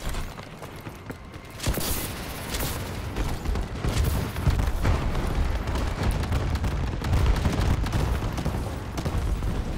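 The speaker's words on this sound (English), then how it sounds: "Friendly bombing run incoming." Bombing-run explosions in the Call of Duty Online video game, a rapid barrage of loud, heavy booms and blasts rolling on continuously after a brief quieter start.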